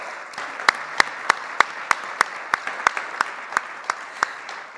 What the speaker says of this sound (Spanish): tienen ganas de aplaudir, por supuesto, no se priven de ese placer